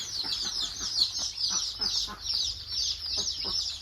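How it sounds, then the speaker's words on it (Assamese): Local chicks clucking and cheeping in a brooding setup, a dense continuous chorus of high peeps with soft clucks, steady and close, with no talk. "ফাইনালি মুৰ্গী আনিলো"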